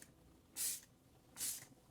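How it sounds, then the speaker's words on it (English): Two short bursts of Colourpop Pretty Fresh Lock It In setting spray misted from a pump bottle, each a soft airy hiss about a quarter second long, evenly spaced, close and fairly quiet. "I'm going to take this Colourpop Pretty Fresh Lock It In setting"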